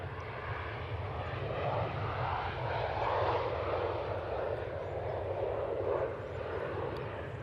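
A Boeing 737-800 jet roars steadily at Manchester Airport, a broad, continuous engine rumble with a rushing hiss holding at a constant loud level throughout.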